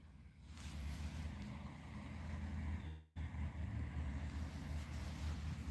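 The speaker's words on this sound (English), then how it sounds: "it's a little windy, so I apologize if it's too windy for you" Steady wind buffets the microphone outdoors, a low rumbling roar that drops out briefly midway and then resumes.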